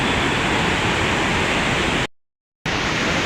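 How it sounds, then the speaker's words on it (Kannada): Steady, loud rushing water pours at Aruvikkara dam near Thiruvananthapuram, Kerala, a dense unbroken roar that cuts out briefly before resuming. "ವಾವ್, ನೀರು ನೋಡಿ ಎಷ್ಟು ಚೆನ್ನಾಗಿ ಹೋಗ್ತಾ ಇದೆ."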